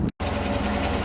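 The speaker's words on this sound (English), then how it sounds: "those sounds you're hearing are our engine running" An inboard engine in an 18 ft Thompson runabout catches after a brief gap and settles into a steady, loud, close idle with an even low rumble and no talking over it.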